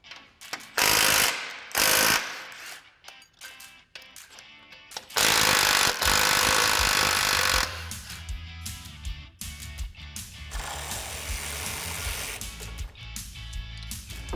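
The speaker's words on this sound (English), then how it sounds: "we're going to remove our winch and mount together" Power tools and a ratchet work loose the bolts holding a winch and its mount on a Polaris RZR Pro XP side-by-side. Loud bursts of impact-driver whirring alternate with steady ratcheting and metallic clicking, with no talking.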